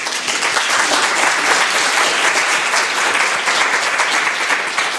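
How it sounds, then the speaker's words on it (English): Loud, sustained applause from a conference audience at a healthcare AI event, many people clapping together in a thick, continuous roar that holds steady to the end. "So I think our panelists need a good applaud."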